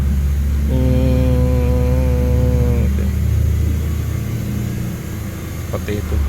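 A Suzuki Swift engine with the AC on revs up with a steady, rough droning hum and vibration, heard close and loud in a workshop while someone talks over it.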